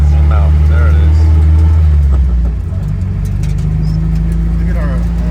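A 2018 Subaru BRZ track build with no windshield pulls away on its first drive, its engine a steady, close, low droning hum that dips slightly partway through.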